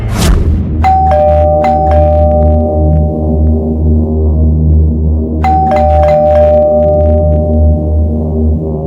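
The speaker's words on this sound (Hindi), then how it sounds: "तो मैंने कई बार डोरबेल बजाई," A doorbell rings twice, each a clear two-tone chime that rings out over a low steady hum, several seconds apart.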